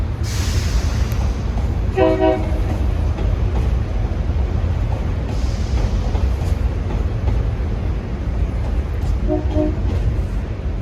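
A commuter train rumbles past steadily and loudly in Wilmington, Delaware, and its horn sounds twice, once early and again briefly near the end.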